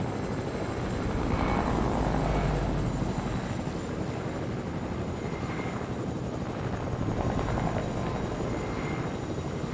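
A Fortnite in-game helicopter makes a continuous rotor chop and engine roar at steady loudness for about ten seconds, with no talk over it.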